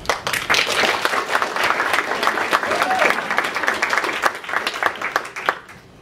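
Warm applause from a conference audience at a mental health event, steady dense clapping that fills the room for several seconds before tapering off, with faint voices mixed in.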